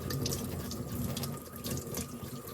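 Warm water runs steadily from a tap into a sink while freshly polished jewelry is washed, a continuous close splashing flow with faint drips and no talk.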